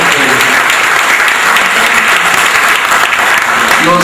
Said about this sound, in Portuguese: Não vamos fazer um minuto de silêncio não, mas vamos aplaudir esse grande lugar.